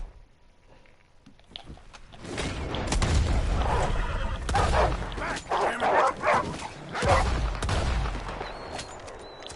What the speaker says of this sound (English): Back away, dogs.